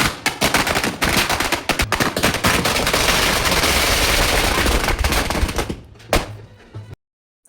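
A small fireworks display goes off at a church procession during a festival. It makes loud, dense rapid-fire crackling bangs for several seconds, then a few last pops before stopping abruptly.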